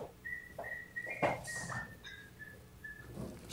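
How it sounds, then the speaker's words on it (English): A man whistles a slow tune in sustained clear notes with short gaps, moderately near, over faint background noise and a few brief knocks. "He's whistling."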